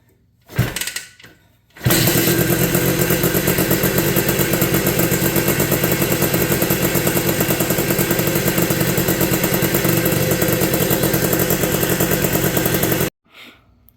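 An 1983 Honda ATC 250R three-wheeler's two-stroke engine sputters briefly, then catches and runs roughly at steady high revs for about eleven seconds, loud and close, before cutting off abruptly.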